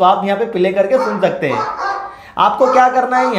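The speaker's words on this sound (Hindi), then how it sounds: "यानी कि कुत्ता भौंक रहा है" A barking-dog ringtone plays from a phone app, with yips and barks running throughout under steady, close male speech in Hindi.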